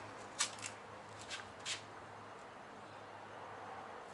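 Masking tape pulled and run around a joint in a shed, giving a few short tearing rasps close by, then a quiet steady background.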